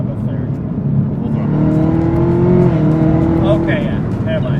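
A Chevrolet Camaro ZL1 accelerates at full throttle after a downshift into fourth, its engine note climbing loud and close inside the car, with people talking over it.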